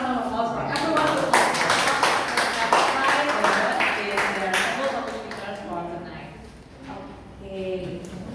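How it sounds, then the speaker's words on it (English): An audience at a Toastmasters club meeting in Jakarta gives a sustained round of applause, with steady clapping throughout and voices mixed in under it. "please give a round of applause for everyone"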